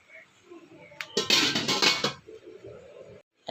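A lid set down over a pot of Filipino chicken tinola with green chili leaves, a quick cluster of metallic clanks and clinks in a kitchen, brief and fairly close, with quiet speech around it.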